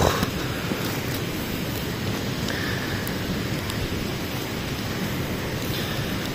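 Steady, dense rain hisses loudly and evenly throughout, with a broad wash of noise and no voices.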